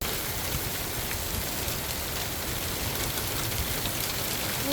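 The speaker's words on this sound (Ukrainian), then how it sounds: "Ось такий він. Карпатський дощ." Steady, dense mountain rainfall in the Carpathians hissing continuously outdoors, a loud unbroken wash of drops with no voices.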